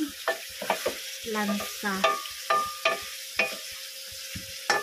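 Chicken for curry sizzles in a pan while a utensil repeatedly scrapes and stirs, sharp clinks and scrapes in an irregular rhythm over the frying hiss.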